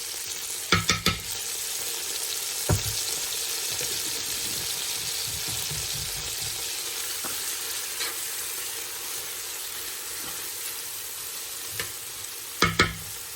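Garlic sautéing in a pan alongside rosemary, a soft continuous sizzle with occasional louder clanks and scrapes of stirring, close and without talk.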